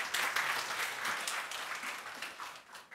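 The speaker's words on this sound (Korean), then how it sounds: "우리 감사의 박수 한번 하겠습니다." A church congregation claps together in a steady, warm round of applause lasting a few seconds, moderately distant and fading slightly toward the end.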